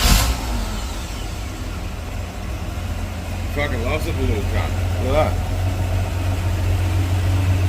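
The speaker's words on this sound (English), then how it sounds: "So now, I'll just fire it up and you'll sort of hear it for what it is at the minute." A Hemi 245 six in a Valiant with a 500 2bbl Holley, Pacemaker headers and 3-inch exhaust idles with a low, steady rumble close by, while someone talks over it.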